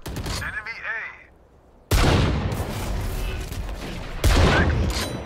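Bursts of rapid gunfire in the tactical shooter Valorant, loud close shots in two heavy volleys separated by a short quieter gap with brief voice-like game sounds.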